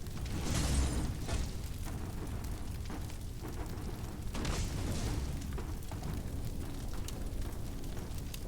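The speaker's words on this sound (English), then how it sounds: "Polarite stuff is exploding." Polarite material exploding in the video game Caves of Qud, heard as repeated muffled booms and bursts over a dense rumbling backdrop, with several stronger blasts spread across the stretch.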